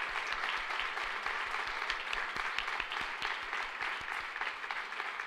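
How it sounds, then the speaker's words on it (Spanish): A live audience applauds the sound technician at a stage show, with dense, steady clapping throughout and a few sharper individual claps standing out, loud and close. "vamos a pedir un aplauso para el sonidista."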